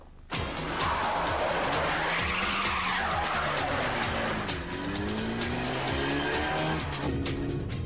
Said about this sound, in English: Joyriding, raking around at speed in stolen cars.